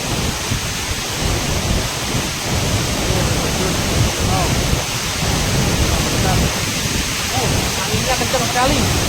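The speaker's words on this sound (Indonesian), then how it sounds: "Ini namanya air terjun Telunjuk Raung." Telunjuk Raung waterfall in Banyuwangi, East Java, a steady loud broadband roar of falling water with strong wind noise buffeting throughout, continuous and close.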